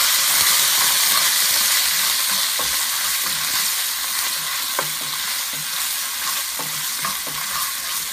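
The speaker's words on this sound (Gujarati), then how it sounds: "હવે આને આપણે ફાઇન રીતે હલાવશું અને જરાક ટમેટો પેસ્ટને આપણે રાંધવા દઈશું જરાક જ." Tomato paste cooks in a pan, hissing and sizzling steadily while being stirred, with occasional scrapes of the utensil, close and continuous with no talking.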